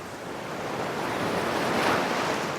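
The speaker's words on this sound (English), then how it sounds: "Let's check out the beach." Ocean waves wash continuously onto a beach, a broad steady roar of surf with some wind, no voices.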